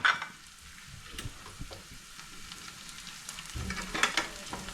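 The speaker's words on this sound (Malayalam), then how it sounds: "അടുത്തതായിട്ട് ക്രഷ് ചെയ്ത് വെച്ച ഇഞ്ചിയും വെളുത്തുള്ളി ഇടുന്നു. ഓനിയൻ പകുതി സോട്ടായിട്ടുണ്ട്." Onion with crushed ginger and garlic sautéing in a hot pan, a steady close sizzle with occasional stirring scrapes throughout.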